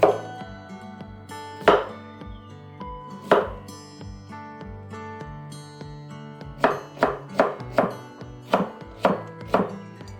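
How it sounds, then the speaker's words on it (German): A knife chops cucumber into thin strips on a board with crisp, near strokes, spaced out at first, then falling in a quicker, regular run. "Gurken in dünne Streifen schneiden."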